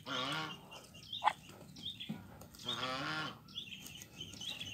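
A goose or muscovy duck eats papaya leaves and stems, giving soft nearby quacks and honking calls with brief rustles over a steady outdoor background.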